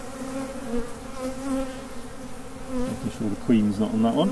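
Honey bees swarm and buzz around an open hive at a heritage open day, a steady close droning hum that swells louder toward the end while a person speaks briefly over it.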